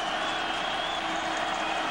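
Orange Bowl crowd at a 2007 NC State versus Miami college football game, a sustained, even roar of cheering and applause, filling the whole moment without any break.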